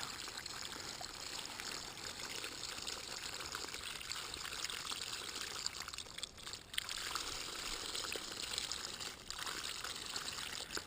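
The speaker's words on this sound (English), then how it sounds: "All I did was just take the hose that I had with the holes in it and put it in the bucket. It's mixing it around inside." Water gushes from a hose with holes in it, churning and mixing inside a bucket: a continuous rushing, splashing stream, fairly quiet and steady with small dips, and no talking.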